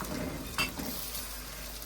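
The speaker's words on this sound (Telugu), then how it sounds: "ఇప్పుడు ఆ పచ్చికారము పచ్చివాసన పోయే వరకు ఒక 30 సెకండ్స్ అలాగా ఫ్రై చేసుకుందాం." Pounded green chilli paste fries with tomato in a pan, a close, steady sizzle with one brief clink of a utensil early on.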